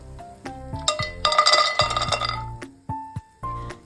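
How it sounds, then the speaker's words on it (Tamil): Cashews, pistachios, almonds and cardamom pods are dry-roasted in a metal pan, giving a close run of bright metallic clinks and taps, denser in the middle, with no voices. "இப்போது பத்து முந்திரி பத்து பிஸ்தா பத்து பாதாம் கூடவே மூணு ஏலக்காய் எடுத்திருக்கேன் இதை வறுத்து எடுத்துக்கலாம்"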